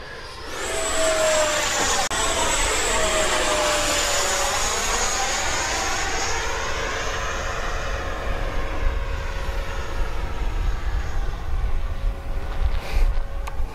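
A Banana Hobby MiG-17 RC jet with a 90mm electric ducted fan whines steadily on a slow pass, its high pitch sliding downward as it approaches and moves away, loud throughout with light outdoor wind noise.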